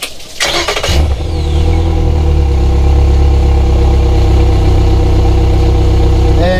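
A Yamaha F70 outboard motor on a Classic Montauk 17 boat cranks briefly and catches, then settles into a loud, steady idle that runs on alone.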